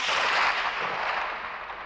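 Gunfire from nearby apartment buildings in Dobrinja, Sarajevo, 1992, a dense continuous crackle of distant shots blending into a steady roar that slowly fades over the short stretch, with no voices.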